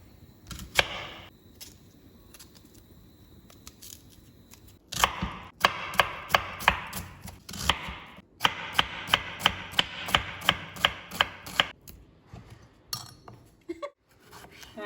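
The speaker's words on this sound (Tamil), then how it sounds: "என்கிட்ட வீட்டில் வேறு தக்காளி இல்லை, இதாக இருக்குது. ஸோ இப்போ இதை கட் பண்ணிக்கலாம்." A knife chops a tomato on a cutting board in a home kitchen, with sharp, closely spaced knocks in bursts after a quiet start, loud and near, no talk.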